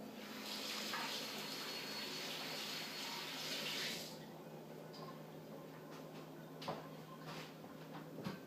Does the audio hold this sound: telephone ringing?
no